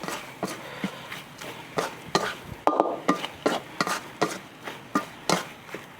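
Tilapia larb being stir-fried dry in a pan, with a utensil scraping and tapping the pan in a steady rhythm of sharp, close strikes, about two per second, alone without talk.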